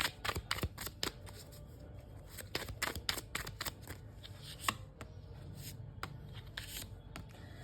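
Tarot cards are drawn from a deck, giving a string of quick, crisp snaps and papery flicks, close and quiet, with short pauses between.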